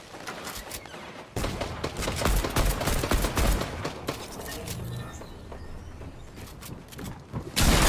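Rapid bursts of gunfire in Fortnite, dense automatic fire that starts abruptly, runs loud for several seconds, thins out, then returns near the end.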